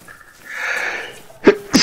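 A person sneezes twice in quick succession near the end, sharp bursts after a softer breathy intake, with no talking over them.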